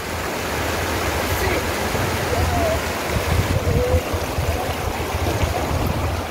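A river near the Kotabagh waterfall in Nainital rushes over slippery stones, a broad steady wash of flowing water heard up close throughout, with faint voices now and then.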